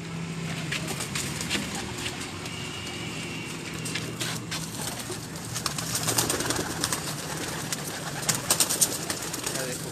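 Pigeons cooing nearby at a rooftop pigeon-keeping spot, soft repeated low coos under a continuous noisy background, with a few sharper sounds toward the end.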